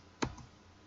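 A single sharp keystroke click on a computer keyboard, close and crisp, standing alone against quiet room tone for a brief moment.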